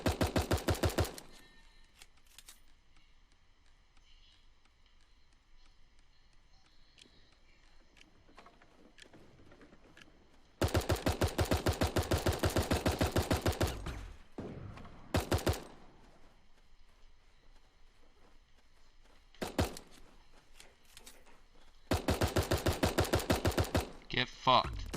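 Uzi submachine gun fire in the video game Super Animal Royale, rapid loud bursts in several stretches separated by quieter gaps with scattered smaller game sounds.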